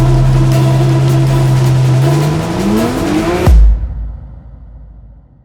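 A high-boost Nissan 370Z drag car holds a loud, steady engine note, then revs upward through a gear before the sound cuts off sharply with a deep thump and fades to quiet.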